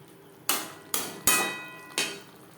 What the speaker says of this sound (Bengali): গ্রেভির সাথে পাট শাক বেশ ভালো করে মিক্সড করে দেবো।